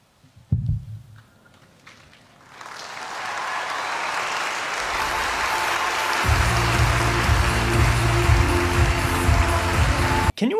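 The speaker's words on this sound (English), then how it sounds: "What's up with this music and people clapping in the background?" Audience clapping swells in after a short quiet lead-in, becoming a broad sustained applause, with music entering beneath it about halfway through and continuing to the end.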